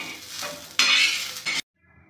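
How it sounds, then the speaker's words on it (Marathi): Onion and garlic roasting in a pan for a village-style egg curry, with broad scraping stirs and a soft sizzle; a louder burst of stirring runs to a sudden stop, then near silence. "कांदा आपल्याला भाजून घ्यायचा आहे, त्याचा कच्चेपणा निघून जाईपर्यंत"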